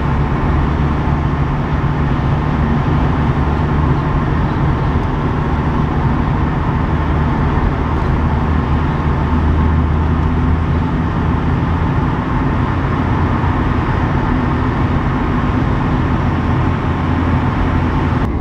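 A small, worn everyday car driving on the road gives a steady, loud low engine and road rumble throughout, unbroken and close, with no talk.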